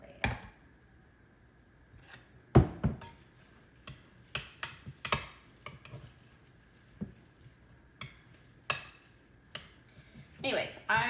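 Food being mixed in a pan on a stovetop over medium-high heat: irregular light clinks and taps of a utensil against the pan, close and fairly quiet, scattered across the clip.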